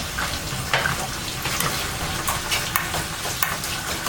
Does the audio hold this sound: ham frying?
yes